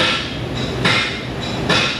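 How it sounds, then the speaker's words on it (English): Sharp metallic hammer strikes land at a slow, steady pace, three or four blows over a constant background of car repair shop noise. "Is all that hammering really necessary down there?"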